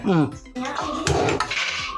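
A metal wok is set down on a kitchen stove, giving a few sharp clanks and rattles of cookware close by, mixed with speech.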